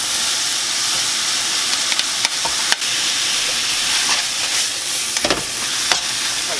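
Half an onion fries in a wok with browned meat and soy sauce for ganjjajang, giving a loud, steady sizzle with intermittent scraping stirs close up and no speech.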